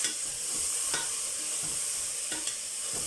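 Golden fried onions sizzle steadily in a pot as tomato, mutton and garlic-ginger paste are mixed in, with a constant hiss and a few sharp scraping stirs, close and without speech.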